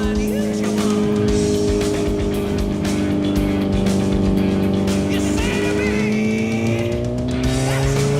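Motorcycle engine held under brake load on a dyno, rolling on from 40% throttle at about 3000 RPM: a steady, loud, rising mechanical drone that fills the whole stretch without a break.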